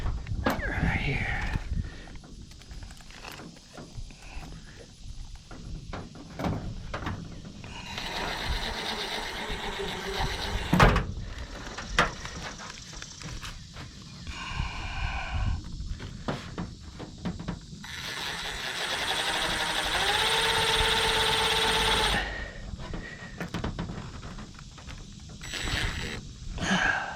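A power driver whirs in bursts as screws go into sheet metal on a porch roof, with a longer high grinding run near the end and someone talking between drives.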